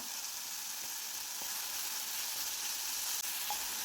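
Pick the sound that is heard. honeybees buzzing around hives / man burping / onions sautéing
onions sautéing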